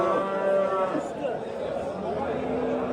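Cattle moo in long, drawn-out calls at a busy livestock market in Qurghontepa, Andijan, close and loud over a steady murmur of crowd chatter.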